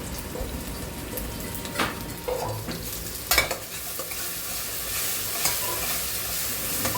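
Tomatoes sautéed in a pan for chana masala, with a close sizzle under repeated scraping and stirring strokes and occasional clatters of the spoon on the pan, no voices.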